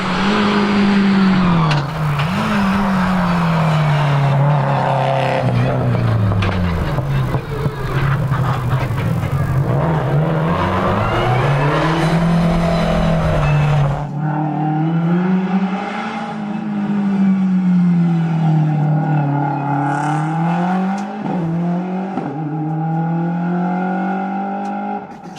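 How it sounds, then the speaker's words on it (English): A Subaru WRX rally car climbs a hillclimb course at the 2025 Legend of the Lakes event, its engine revving hard and loud through repeated gear changes, then carrying on a little more distant as the car pulls away. "the Subaru WRX should be heading up here now"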